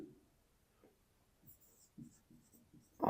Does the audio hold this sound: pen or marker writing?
yes